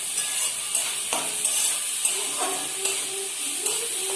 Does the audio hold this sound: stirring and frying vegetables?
yes